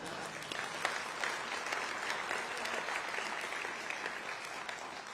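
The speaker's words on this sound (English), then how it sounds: "you can applaud that if you want" Sustained audience applause fills a Conservative Party conference hall in Manchester, a dense, steady wash of clapping that holds for several seconds without letting up.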